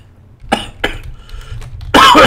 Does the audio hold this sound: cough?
yes